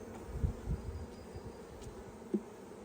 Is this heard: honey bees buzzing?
yes